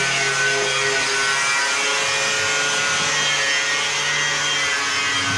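A truck's brake pedal being cut off, a loud, steady, continuous grinding-cut rasp that runs unbroken, close up, with no talking.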